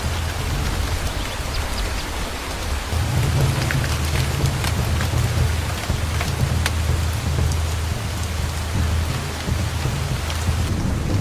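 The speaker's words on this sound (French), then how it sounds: "La pluie commence dans la forêt." Heavy steady rain pours down on a forest in Banco National Park, Abidjan, Côte d'Ivoire, with a low rumbling undertone, a dense continuous hiss close and enveloping.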